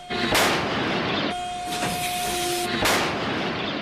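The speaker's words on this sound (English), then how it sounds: "The 5-inch gun carried in a forward mount has an automated reloading system that can achieve rates of fire of up to 20 rounds per minute." A 5-inch naval gun in the forward mount of an Arleigh Burke destroyer fires two heavy booming rounds about two and a half seconds apart, with a rumbling hiss and a faint tone between the shots.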